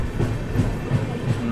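The 12078 Vijayawada to MGR Chennai Central Jan Shatabdi Express rolls along at steady speed, its wheels clattering in a regular clickety-clack rhythm over a loud, continuous rumble, with no voices.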